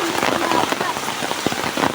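Heavy rain pours down steadily, a dense close hiss of drops hitting surfaces along an outdoor pathway, continuous and loud throughout.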